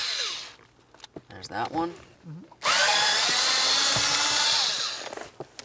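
A power tool spins out T20 bolts holding up the blower motor on a 1999-2003 Toyota Solara, a loud sustained whirring burst after someone speaks briefly close by.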